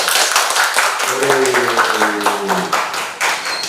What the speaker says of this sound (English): please give applause to him